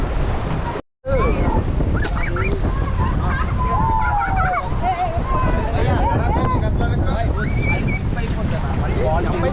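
Speed boat ride off Rushikonda beach, with steady wind buffeting and waves rushing past the hull, close and loud throughout after a brief dropout near the start, while voices talk over the roar.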